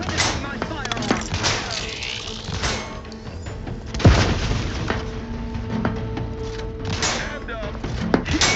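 A grenade explosion in The Outer Worlds 2 bursts out about four seconds in, standing above a busy mix of game combat sounds and a spoken voice line.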